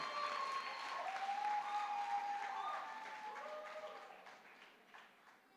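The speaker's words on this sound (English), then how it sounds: "I think if we clap hard enough" A graduation audience at the UNAM 2019 ceremony in Keetmanshoop clapping, a broad sustained round of applause from a large crowd that gradually tapers toward the end, with a faint whistle-like tone briefly riding over it.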